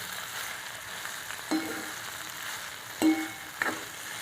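Chopped capsicum (shimla mirch) sautéing in a pan, with a steady close sizzle throughout and a few distinct scraping stirs of a spoon against the pan.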